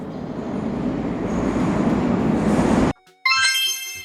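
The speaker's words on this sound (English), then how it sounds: "A commuter train carries workers and students daily." A commuter train rumbles past with a loud, broad roar that cuts off abruptly, followed by a short burst of higher ringing tones after a moment of silence; no voices.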